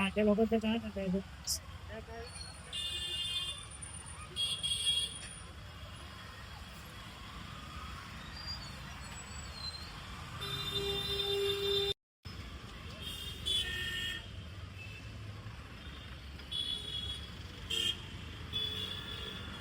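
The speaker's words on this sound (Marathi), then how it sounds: "इथे आता ट्रॅफिक लागली जाता जाताच" Busy road traffic on the way to Malad station in Mumbai, with engines rumbling steadily and several short car horn toots standing out, while people talk over the din.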